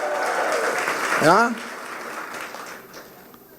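A church congregation at a worship service claps together, moderately loud and continuous, with a voice calling out over it before the clapping eases off.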